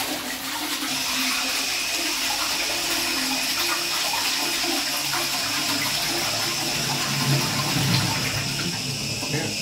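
A 1980s Dudley Elite cistern flushes an older Magnia toilet pan with a steady rushing gush of water that holds strong throughout, close by and without talk.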